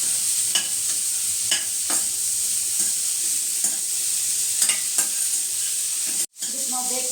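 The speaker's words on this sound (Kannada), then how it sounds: "ಬೀನ್ಸ್ ಹಾಕೊಳ್ತೀನಿ. ಇದೊಂದು 2-3 ನಿಮಿಷ ಹಂಗೆ ಫ್ರೈ ಮಾಡ್ಕೊಳ್ಬೇಕು." Beans stir-frying in a pan over a steady loud sizzle, with sharp scraping clicks of stirring at irregular intervals and a brief dropout near the end.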